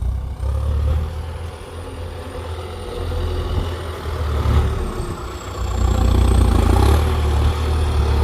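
A Kubota M8808 tractor pushes and plows earth, its engine a loud, low, continuous rumble that swells in strength toward the end.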